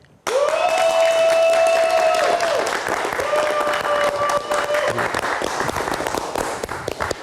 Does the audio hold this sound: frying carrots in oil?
no